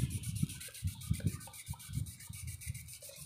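Sandpaper rubbed by hand along an electric motor's shaft during repair, a close, gritty back-and-forth scratching in uneven strokes, roughly two or three per second, with no talking.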